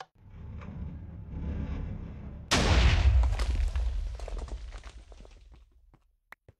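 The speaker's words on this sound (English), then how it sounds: "Was that a nuclear explosion?" A TNT minecart blows up in Minecraft after a low rumbling buildup, a sudden loud blast that decays into crackling debris before falling quiet, followed by a few faint clicks.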